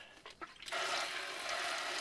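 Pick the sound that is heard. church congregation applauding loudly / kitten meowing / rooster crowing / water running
water running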